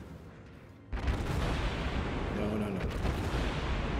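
Naval gunfire in the World of Warships game around a Japanese Kuma-class cruiser, with a heavy boom followed by sustained loud rumbling and explosions. Someone speaks briefly.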